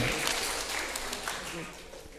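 Audience applause at a live prize show, a soft, fairly distant spread of clapping under chatter and voices, fading a little toward the end.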